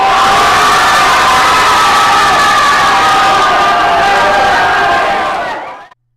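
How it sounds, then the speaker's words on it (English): A group of students backstage before a Hairspray show scream together in a loud, sustained crowd shout with whoops and cheers, then it cuts off abruptly. "and we all scream and run in"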